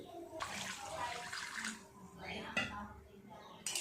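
Water poured from a mixer jar into a pot of spiced potato and eggplant curry for hilsa fish jhol, a steady close splashing gush with brief pauses, and a voice speaking over it.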